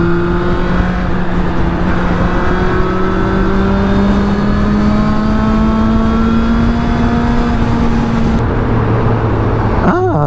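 A Benda LFC 700 motorcycle engine drones loudly while riding, its pitch climbing steadily through a long pull before a shift near the end, with continuous road and wind noise.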